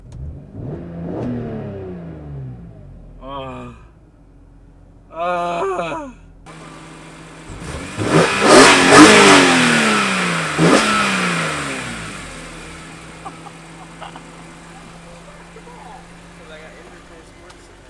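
A 2003 BMW E46 M3 engine revs loudly several times, rising and falling in pitch, with brief exclamations from people nearby before settling to a low idle.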